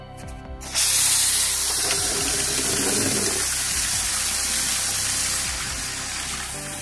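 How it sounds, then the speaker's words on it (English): After a brief quiet moment, a strong hissing spray of water bursts on and continues steadily, loud and close, easing slightly toward the end. "Helps if you turn on the water."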